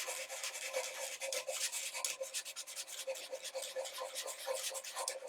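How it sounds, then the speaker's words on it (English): Stabilized chestnut burl, a pen blank on the lathe, being sanded by hand with 120 grit sandpaper, giving a steady close rasping rub in quick repeated strokes with no talk. "I'll just get a little bit of 120 grit sandpaper"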